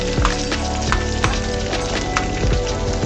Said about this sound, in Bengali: পেঁয়াজটা বেশি লাল করার দরকার নেই, সামান্য একটু আমি ভেজে নেব।